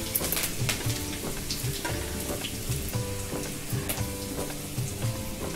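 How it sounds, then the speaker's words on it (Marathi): Mustard seeds crackle and pop in hot oil in a pan for pohe, a quiet sizzle with scattered, regular spits, heard under faint background tones. "तेलावर मोहरी तेलामध्ये तडतडली आहे"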